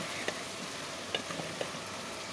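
Potatoes fry and are stirred in a pan for Bengali alur dom, making a steady sizzle with a few light clinks of the spoon against the pan, close and continuous, with no talk.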